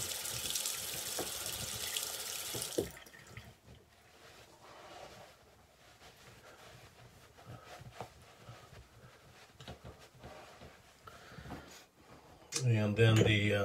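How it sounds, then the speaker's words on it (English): Cold tap water runs into a bathroom sink during a shave routine, a loud steady hiss at first that stops after a few seconds, followed by quieter handling sounds and a brief return of running water at the end. "Then I'll do a light cold water rinse."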